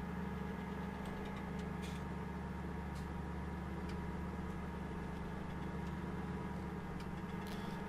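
A John Deere tractor engine idles steadily in the Farming Simulator 2017 video game, producing a constant low droning hum with a faint mechanical rattle that holds evenly throughout, without any talking.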